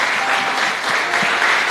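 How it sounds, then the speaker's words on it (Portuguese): A church congregation applauds during a worship service, loud, dense clapping from many people sustained for the whole short stretch. "Aplaude Jesus, que Ele merece."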